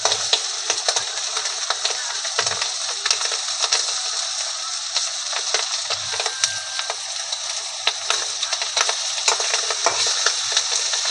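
Steady scraping and clinking of a spoon stirring curry in a pan over a soft sizzle, with intermittent knocks, continuous and close.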